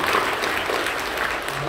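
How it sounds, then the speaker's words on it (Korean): A church congregation applauds during a New Year's Day Sunday worship service, with dense steady clapping that is moderately loud and continues evenly throughout. "사랑하며 박수해 주십시오."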